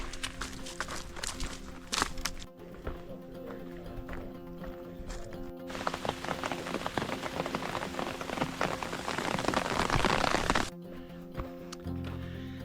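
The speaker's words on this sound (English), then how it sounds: "So the rain was short-lived, thankfully, and it was some thunder and lightning" Rain patters steadily on a hard surface on the Laurel Highlands Hiking Trail during a thunderstorm, building to a denser downpour midway before easing back to lighter dripping; no one speaks.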